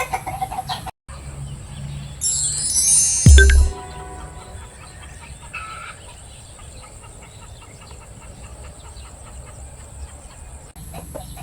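A yellow-legged chicken clucks loudly and close by in a farmyard, a short burst of calls over quiet background noise, then fainter clucks and rustling.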